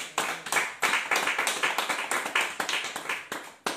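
A church congregation claps in rhythmic unison, a fairly close run of sharp, evenly spaced claps at a brisk tempo over a few seconds, with no talking.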